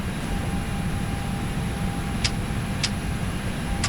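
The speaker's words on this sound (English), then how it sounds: "full throttle, toga" Simulated Airbus A320 jet engines roar steadily at takeoff thrust in Flight Simulator X, a constant low rumble with a thin high whine, plus a few faint clicks.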